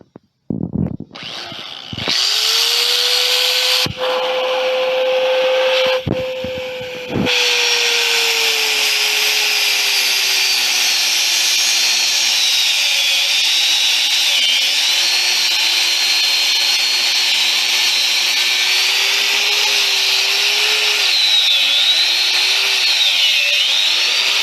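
A power tool cuts braided AN fuel line during a D16Y8 engine swap and turbo kit install. A loud, continuous whine runs nearly the whole time with brief stops near the start, then stays steady as the pitch wavers.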